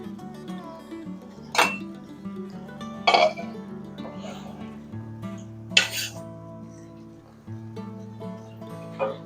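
Stirring rice and water in a cooking pot for chicken madhbi, with several distinct scraping knocks of the spoon against the metal over a steady low background hum.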